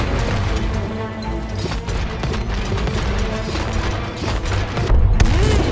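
Dense, continuous booming cannon fire and crashing explosions with a busy soundtrack in the co-op game It Takes Two, loud and relentless throughout, with a heavier blast near the end.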